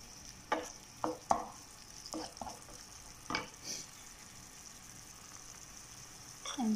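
Garlic sizzling in a hot pan while being stirred, with a few sharp scraping strokes of the utensil over a steady low fry; no talking.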